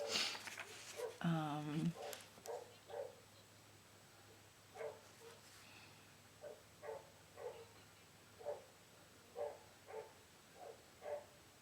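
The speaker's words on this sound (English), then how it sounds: "our dog has found other dogs outside." A dog barks repeatedly outdoors, joined by other dogs, in short, evenly spaced barks that sound fairly distant and muffled; a brief whimper-like sound comes first.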